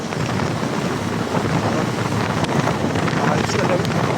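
Wind rushing over the microphone during a night motorcycle ride toward Tagaytay, a loud steady buffeting roar that persists throughout with no break.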